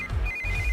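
A phone ringing with a steady electronic tone, repeating in short pulses over a low background hum.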